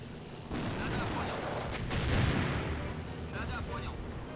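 Gunfire and artillery against Panzer IV tanks in the Blitzkrieg II strategy game, a dense continuous rumble of booming shots and crackling fire building to a heavy swell midway, with a voice talking faintly underneath.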